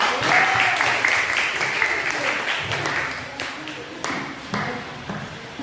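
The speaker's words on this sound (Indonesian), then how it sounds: "Jadi tepuk tangan dulu untuk kelompok 3." A classroom applauds group 3, with scattered, uneven hand claps that start fairly strong and thin out over several seconds, some nearby and some farther off, with a voice briefly heard under them.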